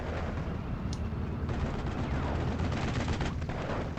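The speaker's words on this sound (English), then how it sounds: "250 kilo bombs falling on it" 250 kilo bombs explode in Steel Division 2, producing a dense, continuous rumbling roar of blasts and gunfire-like cracks, loud and sustained throughout.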